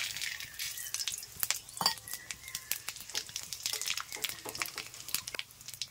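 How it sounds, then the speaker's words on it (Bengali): Spices spit and crackle in hot mustard oil, a quick irregular series of sharp pops and sizzles, fairly quiet and without talk. "তেল গরম হয়ে গিয়েছে, এবার দিয়ে দিচ্ছি ফোড়ন"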